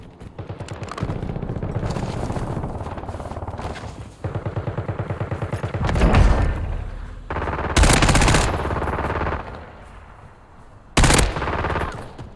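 Gunfire in the Call of Duty Warzone video game: long sustained automatic bursts with rapid regular shots, broken by several louder, sharper blasts near the end, close and intense.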